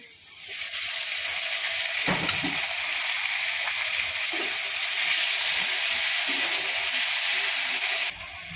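Ginger, onion, garlic and green chili paste hits hot oil over fried onions, a loud dense hissing sizzle that swells quickly and holds steady, close up.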